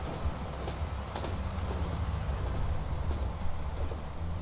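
A train rolls steadily through a Transport Fever 2 game scene, a continuous low rumble of wheels and carriages with faint clicks, fairly loud and uninterrupted.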